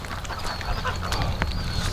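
Ducks quack repeatedly while splashing about in the rain in a wet outdoor yard, their calls close and overlapping against a constant hiss of falling rain and water.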